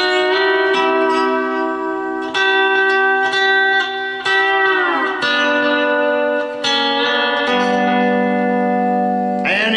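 Lap steel guitar played in a short phrase of plucked string pairs with a bar slide gliding the pitch back down, bright sustained notes with a touch of reverb, close and alone.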